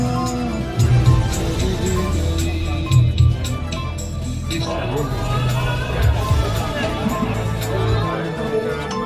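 A large crowd gathered at a memorial meeting for social worker and leader Harishchandra Poddar in Dalsinghsarai mills about with a steady hubbub of many overlapping voices, close and fairly loud, and brief louder swells throughout.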